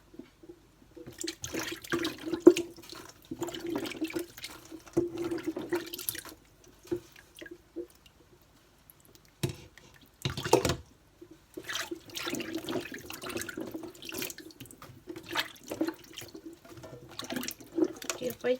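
Vegetable fern being washed under running water, intermittent splashing and trickling from a tap with short pauses and a louder gush in the middle, close and alone.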